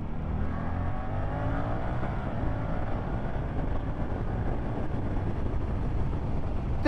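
A Suzuki GSX-8S motorcycle accelerates hard, its engine note climbing steadily in pitch through the gear, loud and continuous over rushing wind noise, with no talking.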